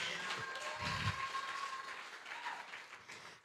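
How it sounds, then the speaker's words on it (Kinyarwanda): A church congregation claps in praise of God, a fairly soft, sustained patter of many hands with a faint tonal hum beneath and a sharp knock at the very end. "Mwakomera Imana amashyi."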